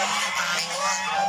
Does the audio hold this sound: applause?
no